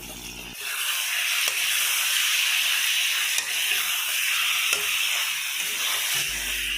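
Ginger and garlic paste fry in hot oil in a pan for masala chicken, a loud, steady sizzling hiss that runs unbroken for several seconds with brief stirring scrapes and no talking.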